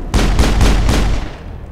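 Sniper gunfire in the video game Mass Effect: four loud, sharp shots in rapid succession, each with a booming low punch, then a fading tail.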